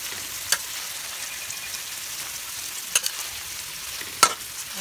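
Soft, steady sizzle of corned beef frying in a pan as cabbage goes in, with three brief scraping stirs standing out over the hiss, no talking.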